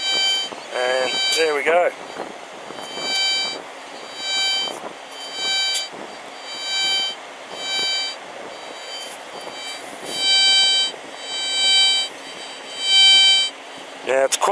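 A Cscope CS4PI metal detector gives a repeated warbling beep tone as it sweeps over a $2 coin, rising and falling in pulses through the clip, with a brief spoken remark near the start.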